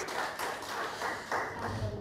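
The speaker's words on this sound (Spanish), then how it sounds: "Denle un aplauso hermoso al Señor, al Rey de Reyes y Señor de Señores." A church congregation applauds together, a steady, dense wash of clapping that holds for about two seconds without a break.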